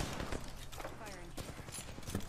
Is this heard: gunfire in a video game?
yes